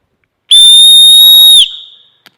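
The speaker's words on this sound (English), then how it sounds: "We have the tiniest whistle I think I've ever seen." A tiny survival-kit whistle gives one shrill, steady blast of about a second, loud and close, ending with a short fading tail.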